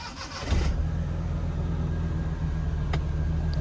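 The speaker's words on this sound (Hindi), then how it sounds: "चलो अब मारुति 800 को ऑन करते हैं।" A Maruti 800 car engine cranks briefly and catches, then settles into a steady, close low idle hum that continues unbroken with no talking.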